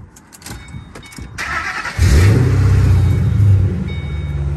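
A few clicks and a brief crank lead into a 3V Ford Mustang GT engine with a catless X-pipe exhaust catching and roaring to life, then settling into a loud, deep, rumbling idle.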